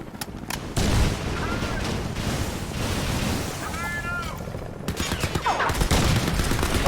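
Gunfire and explosions fill a video game battle, with dense bursts of shots and rumbling blasts under voices talking, a few sharper cracks standing out.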